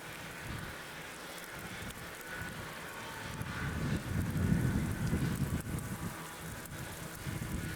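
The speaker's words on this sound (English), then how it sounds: "It's now hailing again." Hail falls during an evening storm, a dense, continuous patter and hiss that swells in the middle and stays fairly faint and diffuse, with no voices.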